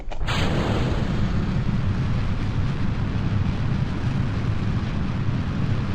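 Solid-fuel booster rocket launching in Kerbal Space Program, an abrupt ignition swelling into a loud, steady, deep roar that holds unbroken and close for the whole stretch, with no voices.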